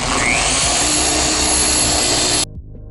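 A machine polisher fitted with a Lake Country microfiber cutting pad and compound runs at a loud, steady whir for about two and a half seconds, then cuts off abruptly.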